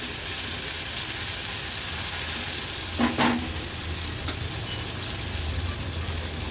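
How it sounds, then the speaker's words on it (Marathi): Onion and green chilli sautéing in hot oil for a Maharashtrian veg dish, a steady close sizzle running throughout, with one brief clink of utensil partway through and no talking. "कांदा व्यवस्थित परतून घेते।"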